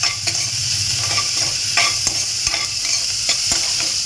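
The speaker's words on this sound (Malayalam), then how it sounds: "ആ വെങ്കായം ഒന്ന് ഒന്ന് വതങ്ങി കിട്ടാൻ വേണ്ടിയിട്ട് അതായത് ഒന്ന് ഫ്രൈ ആയി കിട്ടാൻ വേണ്ടിയിട്ടിട്ടാം" Onions frying in a pan while being stirred, a steady sizzle with repeated scraping strokes of a utensil, close and fairly loud with no talking.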